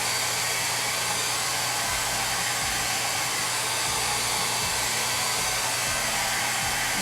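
A hair dryer blows continuously on chalk paste spread over an 18-inch gold frame, a steady loud rushing hum with a low motor drone and no pauses.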